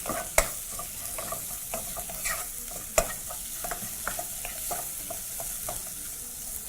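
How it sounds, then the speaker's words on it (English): Onions fry in oil in a pot for Indian rajma masala, giving a steady sizzling hiss throughout, with occasional sharp clicks and scrapes of a stirring utensil close by and no voices. "we're going to allow our onions to continue cooking until they're nice and fragrant"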